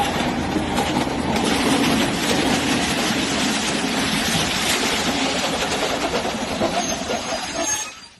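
Train derailing with half its wagons switching onto another track and striking a standing train, heard as a dense, continuous roar of rolling rail cars with rattling clatter, loud and steady before cutting off abruptly.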